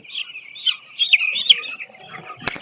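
Poultry chickens in a farm shed give a run of high, chirping and clucking calls close by, ending with a couple of sharp clicks; nobody speaks.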